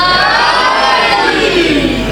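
A crowd at a religious gathering shouts a slogan together, a loud sustained roar of massed voices.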